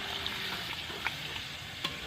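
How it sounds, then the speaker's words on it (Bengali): A little water poured into frying tomato masala with coriander powder for a prawn biryani, giving a soft steady sizzle and bubbling with a few light stirring clinks, close and fairly quiet. "তো আমি জল দিয়ে দিচ্ছি অল্প"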